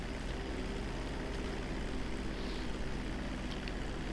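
A Cuban propeller plane flies in GTA V, its engine a steady, dense drone with a broad buzzing roar that holds constant throughout, with no talk over it.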